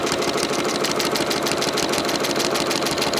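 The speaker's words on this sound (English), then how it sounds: "There's a little extra tapping sound that you might hear, and that is from my AccuQuilt, not my AccuQuilt, the AccuFeed system on the 6600" Free-motion quilting on a 6600 sewing machine with an AccuFeed system, the machine running in a steady, dense whir with a faint, rapid tapping woven through it, continuous and close, with no talking.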